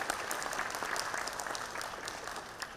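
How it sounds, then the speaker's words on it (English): A large audience at a university association event claps steadily, dense and sustained applause filling the hall without pause. "I would request each one of you to give a big clapping to the organizers"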